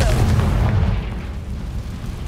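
A Confringo blasting-spell explosion in Hogwarts Legacy: a loud, deep booming burst hits at once and then rumbles into a dense, slowly fading roar over a couple of seconds.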